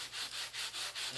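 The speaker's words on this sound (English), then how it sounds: "coming back and sanding it with some 320. No, this is 220." Sandpaper at 220 grit rubs over filler on the carbon fiber hatch of an F-86 model jet, a close, steady run of about six back-and-forth strokes, each a soft hiss, with no talk.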